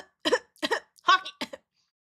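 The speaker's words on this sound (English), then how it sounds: "I see you're coughing there." Four short, close coughs in a quick series, raspy and throaty like throat clearing, with brief pauses between them.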